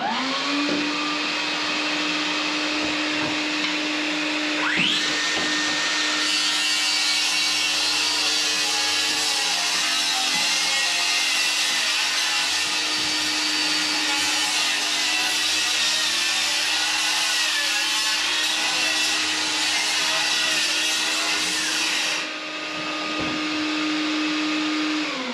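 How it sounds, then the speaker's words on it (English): A power saw, depth set to barely pass through the floor, cuts up through a floor joist while a DeWalt Flexvolt vacuum runs alongside, a steady loud whining drone holding for about twenty seconds before stopping. "Keep the dust down in here while I'm going to make a cut up this joist right up through here."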